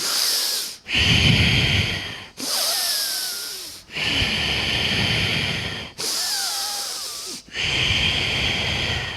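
Forceful rhythmic breaths through the nostrils during a yoga breathing exercise, five long loud rushing inhales or exhales close to the microphone, separated by short pauses.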